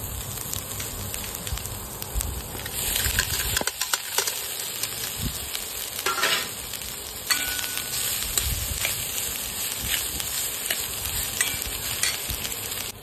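Cooked rice sizzles and crackles as it fries in a pan with vegetables for Maggi masala fried rice, a steady close hiss broken by bursts of stirring and scraping.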